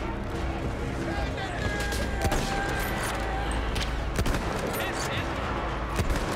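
Rapid gunfire bursts and scattered shots in the Battlefield 1 prologue, Storm of Steel, played on high difficulty, with sharp cracks repeating over a steady battle din while someone talks.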